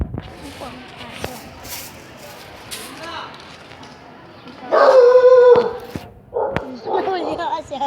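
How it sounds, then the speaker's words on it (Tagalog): Close by, a dog lets out a drawn-out, wavering howl midway, followed by shorter whines and yips, while people talk and move around. "Ayan po ang aso."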